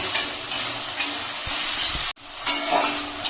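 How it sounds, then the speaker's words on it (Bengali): Chopped onion fries in hot oil for a muri ghonto dish, giving a steady, close broadband sizzle with soft scrapes and taps from stirring and one brief dropout partway through. "পেঁয়াজটাকে এখন ভালো করে লাল লাল করে ভেজে নিতে হবে"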